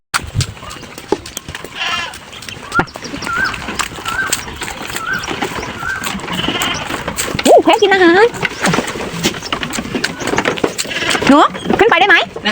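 Goats bleat repeatedly at an animal farm, several wavering calls near and at middling loudness, mixed with people talking and background movement throughout.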